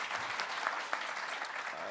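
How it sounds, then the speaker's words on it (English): Audience applause after a presidential remark on the payroll tax cut extension, a steady dense wash of many hands clapping throughout with no talk over it. "that's worth applauding as well"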